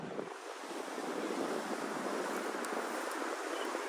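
Ocean surf rolls in along the shore in a continuous wash of broad noise, with wind buffeting the microphone and no voices.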